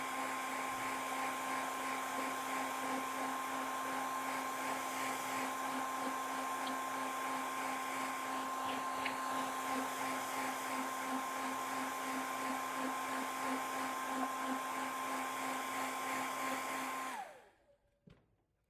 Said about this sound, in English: Let's heat set that.